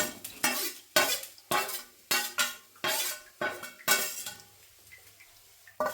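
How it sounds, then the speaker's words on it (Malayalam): A spoon scrapes and stirs thoran with turmeric in a metal pan, about a dozen quick rhythmic scrapes and clanks with a soft sizzle between them, close and fairly quiet. "ഇനി ഇതൊന്ന് ഇളക്കി എടുക്കണം അല്ലേ?"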